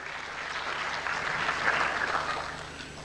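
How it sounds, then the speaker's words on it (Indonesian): A church congregation applauds, a faint, steady patter of clapping with a brief swell in the middle, recorded from a distance. "Berikan tepuk tangan yang meriah."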